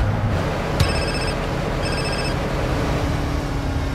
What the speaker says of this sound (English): I'm gonna park outside so that I can receive a phone call.